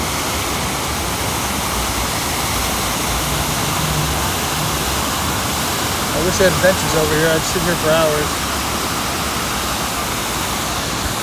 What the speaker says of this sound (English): So this is the Wynn Hotel, and there's a beautiful waterfall right here.